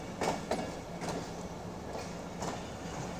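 The Jaffar Express passenger train runs on rails at speed, a muffled steady rumble with soft rhythmic clacks, heard fairly quietly from inside a carriage.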